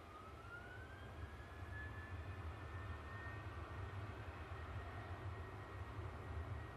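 An EasyJet airliner landing, heard as a faint, distant steady engine roar with a slowly shifting whine, continuous and unbroken, with no voices.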